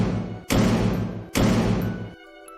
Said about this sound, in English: 3 more bangs slammed into my bedroom door